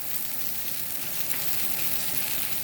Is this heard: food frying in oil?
yes